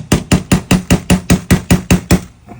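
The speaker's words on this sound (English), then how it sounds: "Take my favorite hammer." A favorite hammer taps a 4mm socket down onto an old fishing lure being opened up for repainting, ten sharp, evenly spaced metallic knocks in quick rhythm, close and loud, ending in a brief fading tail.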